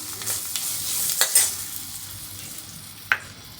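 Asafoetida and turmeric sizzle softly in hot oil while being stirred for a Maharashtrian guava panchamrut, with a gentle frying hiss, a few scraping strokes and a brief clink near the end.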